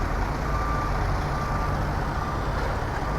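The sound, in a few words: truck reversing with beeps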